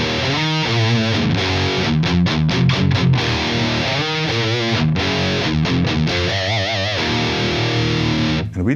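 An ENGL Fireball 100 amp on its lead channel, gain turned fairly low and no tube screamer, driving a heavily distorted electric guitar in chugging riffs with quick stops and sustained bent notes, loud and continuous.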